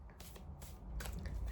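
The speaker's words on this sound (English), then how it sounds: "I like to shuffle until I get a jumper." Tarot cards are shuffled in quick riffling bursts, a few soft flutters and slaps close up, with brief pauses between them.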